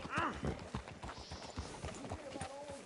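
Horse hooves clip-clop in a steady walking rhythm in Red Dead Redemption 2, close and clear, with a brief whinny near the start and speech over the hoofbeats.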